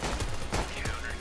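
Gunfire crackles in a shooter video game, a dense burst of overlapping shots and rattling fire across about a second, close and fairly loud, with faint voices mixed under it.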